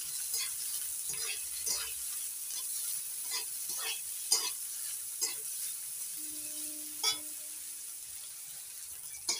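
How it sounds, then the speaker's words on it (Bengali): Chopped onion, garlic and a few chillies fry in hot oil in a pan, giving a steady close sizzle broken by repeated scraping and clinking strokes as the mix is stirred, with no talking. "পেঁয়াজ কুচি, রসুন কুচি, লঙ্কা কয়েকটা, একটু নাড়াচাড়া করে ভেজে নেব"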